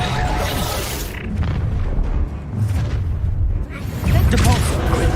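A Reducto spell blasts in a Hogwarts wizardry video game, producing heavy booming explosions and crackling bursts amid dense combat effects. Shouted spell voices mix in over the loud, rumbling chaos.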